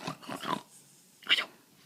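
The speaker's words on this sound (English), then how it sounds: "Looks like a toy, but she is a real doggy" A small pet dog snorts and huffs close up in short, breathy bursts during play with a ball, with a brief pause before a final louder snuffle.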